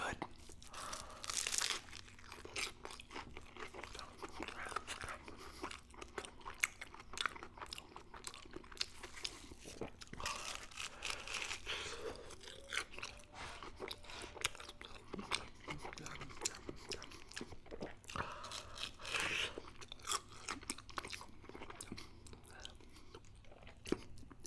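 Close, quiet crunching and chewing of a crispy grilled Korean bulgogi burrito filled with kimchi and cheese, with repeated crisp bites and tearing between soft mouth sounds, intimate and hushed.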